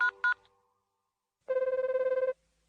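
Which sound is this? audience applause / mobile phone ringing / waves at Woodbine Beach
mobile phone ringing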